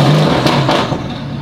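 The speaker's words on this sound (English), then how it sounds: "I wonder what the car sounds like if I revved it in the garage." A 2023 Dodge Hellcat Jailbreak engine revs inside a garage, a brief loud burst of engine noise that swells and fades within a second or two.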